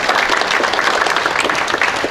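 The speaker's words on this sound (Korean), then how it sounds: "박수로서 여러분 환영해 주시면 대단히 고맙겠습니다." Applause from an audience welcoming guests at a memorial ceremony for the 60th anniversary of President Syngman Rhee's death, held in a memorial hall; dense, steady clapping filling the whole short stretch.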